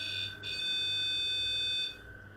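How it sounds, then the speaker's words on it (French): An electronic teddy bear ghost-hunting sensor emits a loud, high, steady beep lasting about two seconds during a paranormal investigation in a château corridor, then falls away to quiet. "ça va biper, comme ça."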